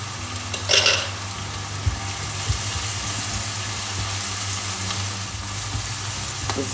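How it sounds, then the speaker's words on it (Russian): Food lightly frying in a pan with turmeric for a vegan broccoli dish, a steady close sizzle running throughout, with a brief clatter of stirring near the start. "Слегка обжарю"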